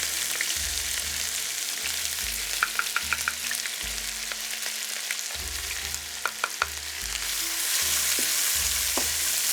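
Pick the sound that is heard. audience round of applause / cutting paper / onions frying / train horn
onions frying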